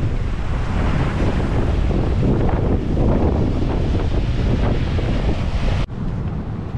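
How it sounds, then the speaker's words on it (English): Strong wind roaring down a valley on a coastal walk, a loud, continuous buffeting rush with heavy low rumble from gusts hitting the microphone, unbroken until a brief dip near the end. "It's blowing an absolute hoolie down this valley."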